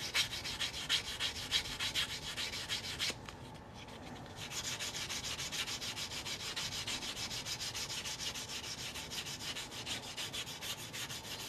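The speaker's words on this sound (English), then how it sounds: "they're easy to hold, and they have different grades of sandpaper on there already" A coin is sanded with a handheld sanding sponge, producing a steady rhythmic scratchy rubbing, close and continuous, with one brief pause partway through.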